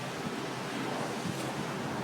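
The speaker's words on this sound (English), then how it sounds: "And it's windy as shit." Strong wind blows outdoors as a steady, loud broadband roar buffeting the microphone for the whole stretch, with no talk over it.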